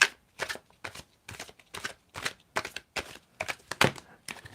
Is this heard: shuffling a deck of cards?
yes